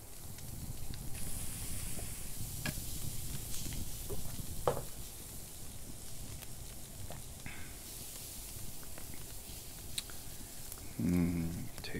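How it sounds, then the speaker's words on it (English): Meat roasting over a campfire in the medieval survival game Medieval Dynasty, giving a steady soft sizzle and crackle under faint wind, with a few brief clicks and a short louder burst near the end. "Tasty meat sizzling over the fire."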